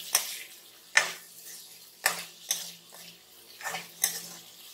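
Bombay potatoes (aloo) being stirred in a pan over a low flame: about five rhythmic scraping strokes, roughly one per second, close and clear with no talking.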